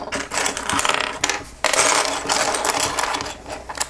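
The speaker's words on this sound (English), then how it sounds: "Kind of move some of these pieces around." Small plastic Lego pieces from a Friends Heartlake Lighthouse set are shuffled and pushed around on a surface, producing dense, continuous rattling and clattering up close, with a brief lull before a louder burst of clicking.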